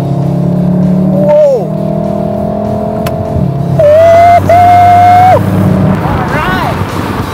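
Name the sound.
VW Golf R engine sound in race driving mode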